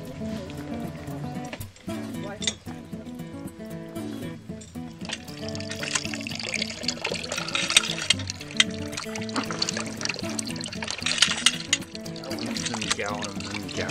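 Apple cider pours and trickles from an apple press, a continuous liquid splash with a busy, uneven texture running throughout, while people talk nearby.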